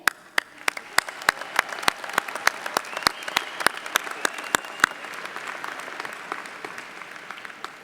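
Applause from a college commencement audience: sparse, distinct hand claps spread through a large hall, strongest early and thinning into scattered softer claps toward the end, with no voices over them.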